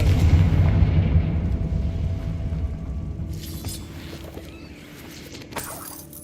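A Confringo blasting spell explodes in Hogwarts Legacy inside an abandoned cave, a loud deep boom that rolls into a long fading rumble, followed by scattered crackling debris and a sharp late impact.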